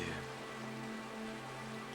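Rain falling steadily on surfaces outdoors, a soft continuous hiss of drops at moderate level with no voices.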